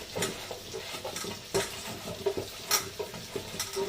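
Goat meat and spice masala fry in a pan during kashano, a low sizzle under repeated stirring strokes with rhythmic scrapes and light metallic knocks of the spoon.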